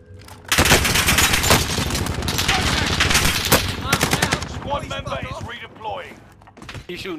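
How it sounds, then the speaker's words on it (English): Rapid automatic gunfire from a Call of Duty: Warzone match on Fortune's Keep in Resurgence mode, loud, dense bursts packed close together and running almost continuously before thinning out toward the end. "Shooting at him."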